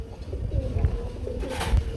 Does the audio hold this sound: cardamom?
no